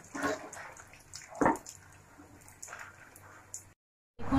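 Bread chops (pauruti chop) fry in hot oil with a close, hissing sizzle and crackle that swells and fades in waves, drops to brief silence, then returns.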